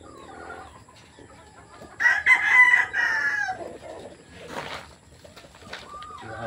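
A gray breeding rooster crows once, loud and close, with a long drawn-out call, followed by softer clucks and calls from nearby chickens.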